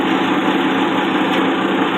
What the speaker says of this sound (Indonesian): pengetesan uji coba mesin.